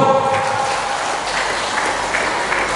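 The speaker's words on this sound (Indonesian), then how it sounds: "Tepuk tangan dulu." Loud, continuous applause from a crowd at an inauguration ceremony in Batam, dense and even from start to finish with a faint tonal hum early on.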